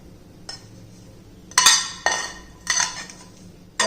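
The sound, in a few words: mixing sautéed onion and coconut into flour dough in a bowl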